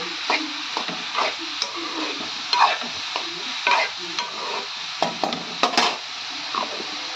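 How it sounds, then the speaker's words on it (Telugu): Spoon scraping and stirring ridge gourd with dried shrimp as the curry fries in a pan, soft steady sizzle beneath repeated close scrapes and clinks against the metal, no talk. "వేసుకున్న తర్వాత బాగా మిక్స్ చేయండి."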